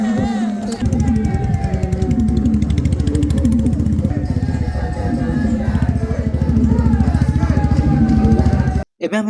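A motorcycle rides along with its engine droning loud and steady at close range the whole way, while voices are faintly heard over it.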